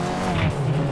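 A Nissan S13 drift car in Assetto Corsa drops a tire off the track during a tandem run, its engine roaring under a short, loud burst of tire squeal and skidding.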